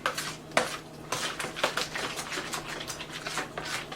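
Spinach lasagna filling being stirred in a bowl, with a utensil scraping and clinking against the dish in an irregular series of taps and scrapes at close range, with no talking.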